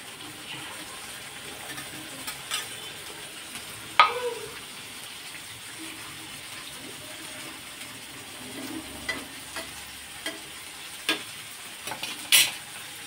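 Eggplant and potatoes frying in a pan, a soft continuous sizzle broken by a few sharp utensil knocks and scrapes spaced several seconds apart.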